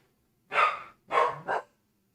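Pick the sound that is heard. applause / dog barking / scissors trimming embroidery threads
dog barking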